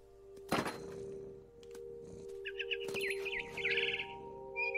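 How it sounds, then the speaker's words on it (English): A frightened barn swallow in What Remains of Edith Finch gives a rapid, warbling run of chirps after a couple of sharp thuds, set against a quiet ambient background hum. "I tried to be quiet, but the bird was really scared."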